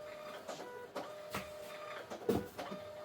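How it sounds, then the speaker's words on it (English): An office printer runs off order invoices in a series of mechanical passes, with repeated sharp feed and print bursts about every half second over a steady motor hum, close and moderately loud, with no voices. "I'm printing out order invoices for my employee to pack and ship."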